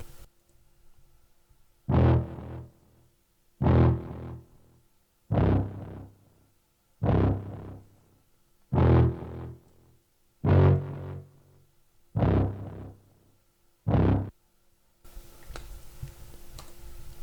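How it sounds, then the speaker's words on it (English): A gritty distorted guitar synth, the Roland JV preset Dist Guitar 2, plays eight evenly spaced, punchy low stabs, each decaying quickly, with no voices. "I then added another distortion guitar from Roland JV, and the name of the preset is Dist Guitar 2"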